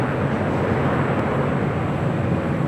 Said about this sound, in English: That was Alaska Airlines Flight 1419 coming in from Guadalajara. That's 737-900 ER.